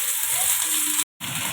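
Potato and aubergine frying in refined oil with onion and spices, a loud, steady, close sizzle that cuts out briefly and then resumes.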